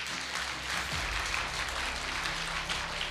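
A room of seminar listeners breaks into sustained applause, a dense, even wash of clapping that holds steady for several seconds without talk over it.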